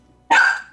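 Stella the dog from the Griddle Champions game lets out one loud, close, sharp bark that is over in under half a second.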